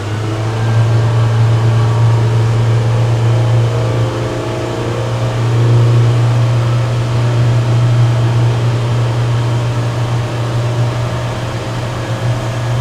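A Mercury V10 400 outboard on a Seaking 770W boat runs at low RPM, giving a steady, loud, continuous drone with a deep low hum and constant engine noise throughout, no voices.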